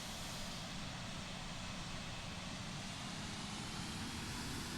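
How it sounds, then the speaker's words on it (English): Steady, unbroken drone of aircraft engines in Microsoft Flight Simulator, a broad rumbling hum held at an even level throughout with no talking. "So you can hear the engines going up and down as it manages the speeds and the height."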